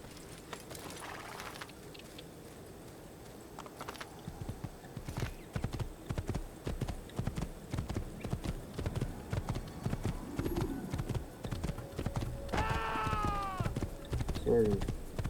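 Hoofbeats clop in a rapid, steady rhythm as a horse is ridden in the 2007 Assassin's Creed game, starting after a quiet opening and continuing near and loud, with a brief whinny and a voice speaking over it.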